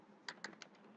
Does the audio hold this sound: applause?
no